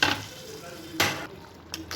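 Curry leaves and chilli tempering are tipped into a pot of brinjal curry, giving short bursts of sizzling and a clatter of a spoon against the pan, with quieter frying between the bursts.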